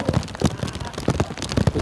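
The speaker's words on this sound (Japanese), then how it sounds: "雨这么大" Heavy rain falls steadily outdoors, a dense loud patter of drops hitting surfaces in uneven bursts, close and without voices.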